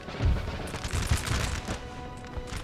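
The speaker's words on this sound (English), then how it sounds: "To just run straight in to a musket fire." Musket volley fire in Napoleon: Total War, with Russian line infantry firing on charging cavalry: a rolling crackle of many overlapping shots with deep booming thuds, loud and continuous, dense at first and then thinning slightly, with no voices.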